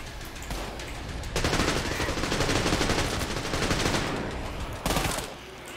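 Sustained automatic gunfire and shotgun blasts in the first-person shooter game Trepang 2, a dense, loud barrage of rapid shots from about 1.4 to 4.8 seconds, with a final burst near the end.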